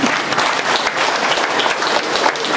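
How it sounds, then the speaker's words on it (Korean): Lecture-hall audience breaks into steady, dense applause, a continuous wash of many hands clapping close by with no talk over it. "여기서 박수 한번."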